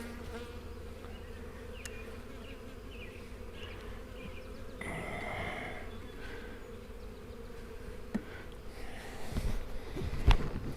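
Honey bees hum inside an open hive box of frames and comb, a soft continuous drone close by with a few louder passes and light knocks of the frames near the end.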